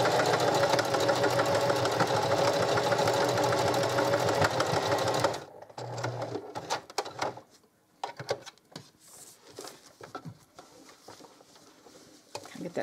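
Sewing machine back stitching across the top of a tote bag made from drying mats, running loud and steady for about five seconds, then stopping, followed by fabric handling and light clatter.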